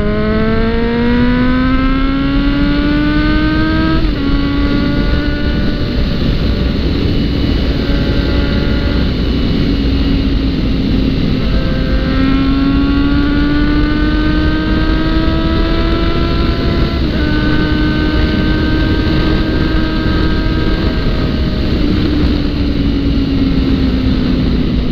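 A Suzuki GSX motorcycle accelerates hard on a road with a bumpy surface, its engine note climbing in pitch through several gear pulls, loud and close with steady wind roar underneath.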